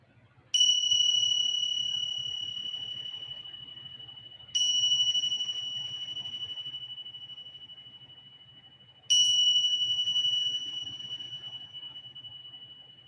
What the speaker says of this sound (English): You will hear the sound of the bell. You can listen to its sound.